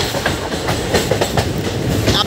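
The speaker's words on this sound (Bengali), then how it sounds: "এবারটা পাহাড়ের ভিতর দিয়ে ট্রেন দৌড়েছে" A train runs through mountain country and tunnels, its wheels giving a loud continuous rumble with rhythmic clickety-clack over the rails, heard close from on board.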